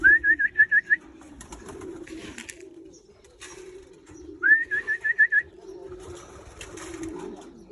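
Pigeons give rhythmic bursts of cooing and whistling calls in a garden loft, two clear series of short repeated notes with quieter rustling and flapping between them.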